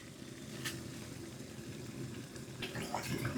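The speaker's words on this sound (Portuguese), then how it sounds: "Aqui a água ferveu, é só deixar cozinhando por 5 minutos." A pot of about one liter of water boils for glass noodles, giving a faint, steady bubbling rush with small splashy ticks, heard close and alone.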